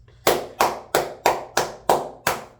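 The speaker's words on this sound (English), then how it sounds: "I got a couple rounds of applause to give out." Seven sharp hand claps in a slow, even rhythm, close and loud against near silence.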